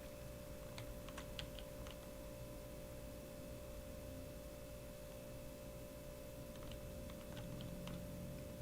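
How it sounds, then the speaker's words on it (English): A computer keyboard clacks quietly in two short bursts of rapid key taps, one early and one near the end, separated by a stretch of faint room hum. "It's just the sound of my keyboard clacketing away."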